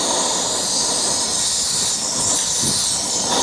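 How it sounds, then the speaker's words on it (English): A camping stove burner roars under a LighTake windscreen with a loud, steady rushing hiss that swells slightly in surges, close up with no talk. "I hear the stove, it keeps surging."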